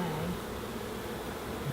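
Honeybees buzz around an open beehive during a hive inspection, a dense, continuous drone close by with no talking over it.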